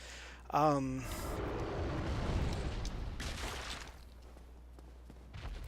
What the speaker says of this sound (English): that's his fire attack, which there is no defense for that